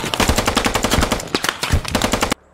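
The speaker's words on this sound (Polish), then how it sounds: "Czemu oni nas strzelają?" Automatic weapons fire in rapid, loud bursts in the video game Squad, with the crackling volleys continuing for over two seconds before stopping abruptly.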